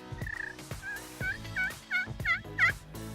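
A series of short, high yelping turkey calls from a slate friction call, repeated in a quick, rising rhythm with no talking.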